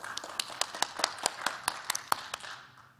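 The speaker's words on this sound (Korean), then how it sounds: "큰 박수로 맞아주시기 바랍니다." An audience at a public-sector HRD contest gives brief applause to welcome a presenter, a thin scattering of distinct individual claps with sparse, uneven rhythm, fairly quiet and tapering off after a few seconds.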